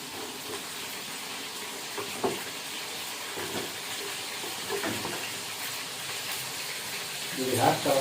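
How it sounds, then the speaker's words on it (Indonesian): Cassava pieces sizzle in hot oil, a steady soft frying hiss with occasional stirring knocks and a louder bubbling burst near the end, while a person talks over it. "Nanti tinggal digoreng lagi"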